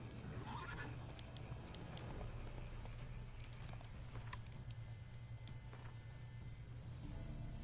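Geralt's horse Roach in The Witcher 3 gives a whinny near the start, then steady game ambience with faint hoof clops continues underneath.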